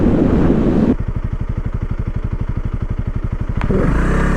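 A Honda CRF300L dual-sport motorcycle pulls off in third gear on a heavily corrugated road in the Australian bush. A loud, close engine thuds in a fast steady pulse, wind rushing over the mic and rattling from the rough surface.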